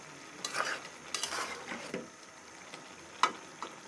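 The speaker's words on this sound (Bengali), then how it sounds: "আমাদের তরকারিটি বলক চলে হচ্ছে" Brinjal curry cooked with very little oil and spice bubbles in a pot, giving soft intermittent simmering crackles with a few louder clinks of a spoon against the pot, fairly quiet and close.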